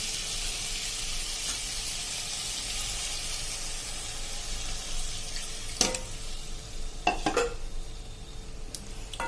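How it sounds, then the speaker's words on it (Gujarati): Half a cup of water is poured into a sizzling potato and pea curry in a pan. A steady hiss and watery rush fill the clip, then a few sharp clinks and scrapes of a spoon near the end, with no talking. "હવે આ સ્ટેજે આપણે એમાં અડધો કપ જેવું પાણી નાખી દેશું."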